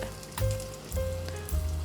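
Doughnut dough frying in hot oil, a steady sizzle with short bursts as pieces are lowered in, close by and alone with no talk.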